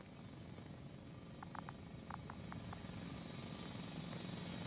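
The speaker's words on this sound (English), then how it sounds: "It's a drill!" A loud drill in the sci-fi game The Invincible, a heavy, steady mechanical roar that fills the scene, with a few short clicks or beeps over it early on.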